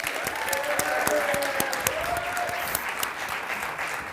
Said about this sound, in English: let's give a big round of applause for our contestants